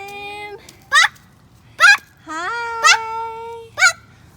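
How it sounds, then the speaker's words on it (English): Chickens near a park give a series of loud, close clucking and squawking calls, about five distinct bursts with pitched, harmonic tones, separated by short pauses, with no talk over them. "Look, there's one chicken right there."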